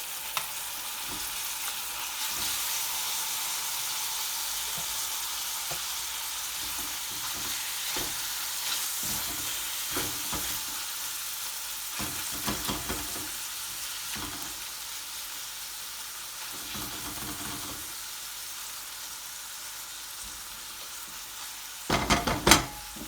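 Diced tomato sizzling with softened onions in a pan for murgh masala, a steady close frying hiss that runs throughout, broken by occasional stirring scrapes and a sharper clatter near the end.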